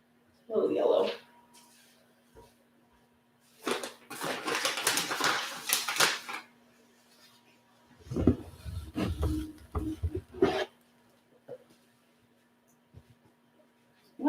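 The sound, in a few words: dog barking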